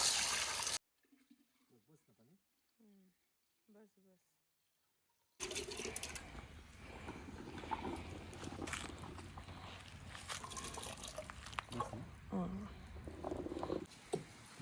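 Water splashes and sloshes steadily while freshly harvested, soil-covered turmeric rhizomes are washed by hand, following a brief burst and some quiet speech at the start.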